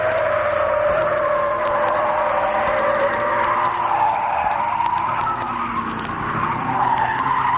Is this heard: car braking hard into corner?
yes